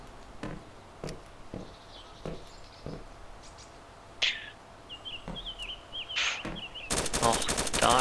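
Gunfire in the survival game DayZ: scattered single shots crack out at intervals over chirping birds, ending in a loud, rapid automatic burst.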